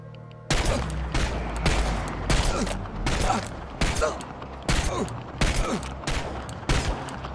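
Gunfire in the video game Chernobylite comes as a run of sharp, loud shots in irregular bursts, about a dozen reports over several seconds, with mechanical clatter between them.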